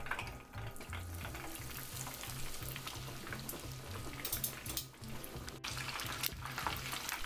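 Breaded chicken katsu deep-frying in hot oil, a steady bubbling crackle and sizzle heard up close, with small pops and shifts in intensity, alone without speech.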